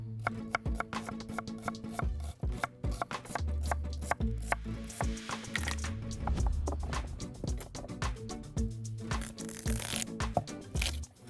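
A knife chops onion and carrot on a board in quick, irregular bursts of crisp, close knocks and crunches, with short pauses between runs and no one talking.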